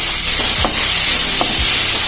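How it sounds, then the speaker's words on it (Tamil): Onions and tomatoes sizzle steadily in a hot pan, a bright hissing fry broken by a couple of scraping stirs. "நல்லா வதக்கிக்கலாம்."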